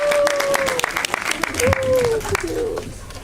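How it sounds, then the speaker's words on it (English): Applause from a crowd at a debate final, steady clapping throughout, with a voice speaking over it. "Round of applause."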